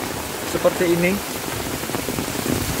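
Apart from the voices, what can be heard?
heavy rain with strong wind around a house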